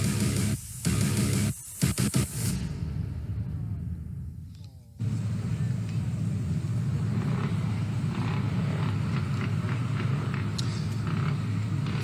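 Race cars lining up on the starting grid at Donington Park before a saloon-car race: loud engine rumble and idling, with a few sharp bursts early on, then a steady drone with no voices.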